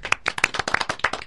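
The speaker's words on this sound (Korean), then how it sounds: "박수로 환영하시죠" A small audience claps to welcome a candidate for Korean Medical Association president on a podcast, giving roughly nine or ten distinct, close hand claps in an uneven rhythm, with no one speaking.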